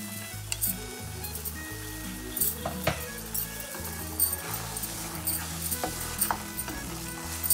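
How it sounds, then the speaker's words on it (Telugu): Almonds, pistachios and cashews frying in a pan, with a soft sizzle and irregular stirring clicks and scrapes under background music. "బాదం, పిస్తా, జీడిపప్పు వేగించి పెట్టుకుంటాను."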